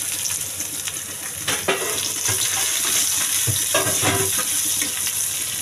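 Chopped garlic and onion sizzle steadily in hot oil in a pan, a continuous close frying hiss with occasional stirring clatter and a faint splash of water.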